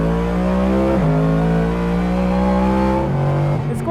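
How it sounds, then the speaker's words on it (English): A Ford Mustang GT3 racing car engine revs hard and close, a loud, rough, harmonic roar that climbs in pitch, drops briefly as gears change at about one and three seconds, then climbs again. "This engine is phenomenal. It sounds so angry."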